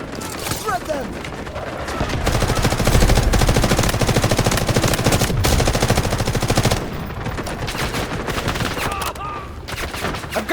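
Rapid automatic gunfire from vehicles in the video game Delta Force rattles in long sustained bursts, loud and close, while people talk excitedly over it.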